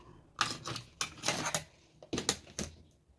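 Scissors snip through material for a fabric-covered box in a handful of quick, close crisp cuts, each a short rasping crunch with pauses between.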